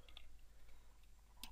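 Soft, irregular clicks of computer keyboard keys being pressed, quiet and close, with a slightly louder cluster of taps near the end.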